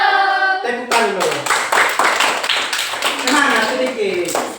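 A classroom of pupils claps their hands together on a teacher's cue, a dense run of sharp claps that starts abruptly and carries on steadily, with children's voices mixed in throughout.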